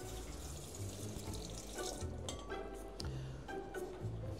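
Water trickles and splashes from a faucet as a little is measured out for bread dough in a home kitchen, a soft uneven stream running continuously and faint in the background.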